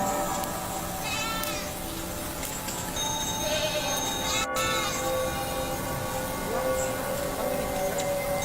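A goat bleats repeatedly over steady background noise outdoors, with short wavering cries rising and falling across the scene and a brief sharp click partway through.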